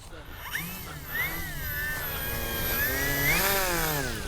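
A Durafly 1100mm T-28 RC model plane flies past during speed trials, its electric motor whine rising and falling in pitch as it approaches and recedes, with people talking over it.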